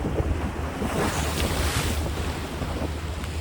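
Sea waves on a windy waterfront with boats nearby, a continuous loud wash of surf mixed with heavy wind rumble on the microphone, no speech.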